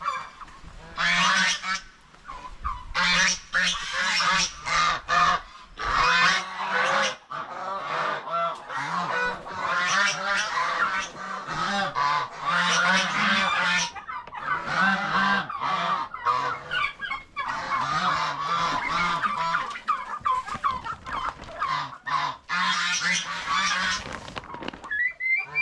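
A noisy flock of turkeys and chickens gobbling and honking loudly and continuously at a poultry pen, many birds calling at once close by, with no talking.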